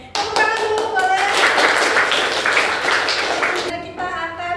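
Classroom of children clapping on cue, a burst of many hands at close range that fades after a few seconds, with a voice speaking or singing at the start and end.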